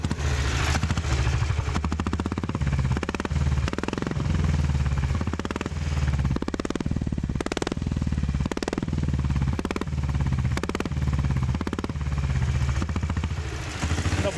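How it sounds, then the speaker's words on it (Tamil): A motorcycle engine thumps with a steady, loud, rhythmic beat close by, with periodic revving surges and no talking. "இந்த பைக்கோட சத்தம், அந்த பீட்டு சத்தத்தை தான் நம்ம பார்க்க போகிறோம்"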